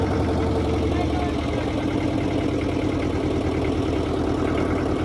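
A small boat's engine runs on the Mekong Delta, a close, loud, steady chugging drone with a mechanical knock that holds evenly throughout.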